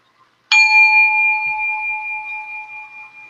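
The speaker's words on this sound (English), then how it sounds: "I just love the sound of that bell." A single bell is struck once and its clear metallic tone rings on, slowly decaying over about three seconds in an otherwise quiet room.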